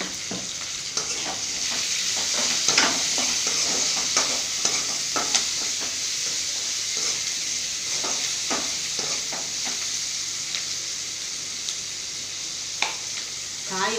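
Onions with salt sautéing in a pan for a home lunch, a steady bright sizzle with frequent scraping stirs of a spoon, close and continuous.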